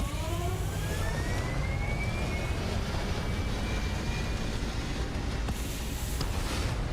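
A spaceship lifting off in Starfield: a loud, steady engine roar with a rising whine that sweeps upward, constant and close throughout.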